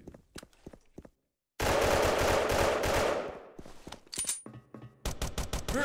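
Rapid automatic gunfire from M16A2 and AK rifles in the shooter game Special Force, coming in sharp separate shots and a long dense burst with brief silent gaps between them, with no talking.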